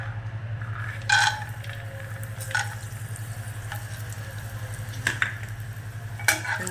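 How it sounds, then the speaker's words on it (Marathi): Peanuts sizzle and crackle steadily in a hot pan on the stove, a continuous frying hiss with a few sharper pops scattered through it and a low steady hum beneath. "शेंगदाणे थोडेसे फुटू द्यायचे"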